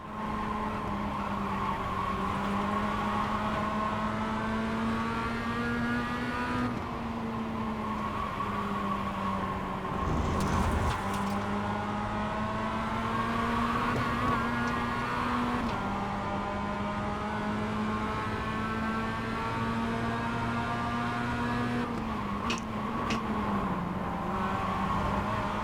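A racing car engine in a racing video game drones steadily and loudly throughout, its pitch climbing and dropping with gear changes, with a brief skid-like burst around the middle.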